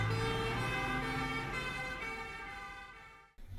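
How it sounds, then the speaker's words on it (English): Fire truck sirens sound during a shipboard safety drill in Malta, a steady layered wail holding loud over low rumble before cutting off near the end. "the sirens of local fire trucks were heard in the distance"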